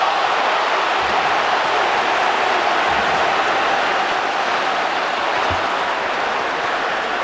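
Stadium crowd at a Sounders versus Timbers soccer match surging in a sustained roar after a near goal, a dense broadband wash of cheering that holds steady and loud throughout with no distinct voices.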